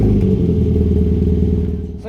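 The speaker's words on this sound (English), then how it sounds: "One final cold start for the boys, current exhaust setup." A Ford Figo with a modified exhaust idles loudly right after a cold start, a deep, steady low burble up close that eases slightly toward the end.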